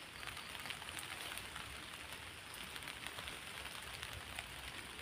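Steady rain patters on surfaces outdoors, a constant soft hiss with scattered drop ticks, faint and even with no voices.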